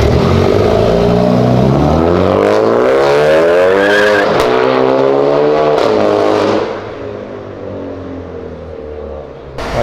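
Porsche GT3 sports car engine revving and accelerating up close, a loud rising and falling harmonic howl through several gear pulls, with a brief tire squeal, before easing to a lower idle.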